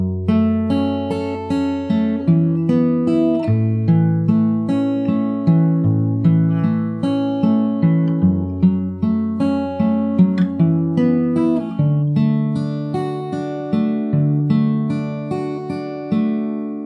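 Slow fingerstyle acoustic guitar plays the intro of a song, with picked notes ringing over one another at an even, unhurried pace. The guitar is close and steady, with no voice.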